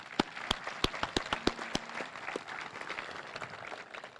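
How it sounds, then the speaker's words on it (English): An audience at a high school class of 2021 graduation claps, starting with a few sharp, distinct claps that swell into steady, moderately loud applause. "Please give them a round of applause"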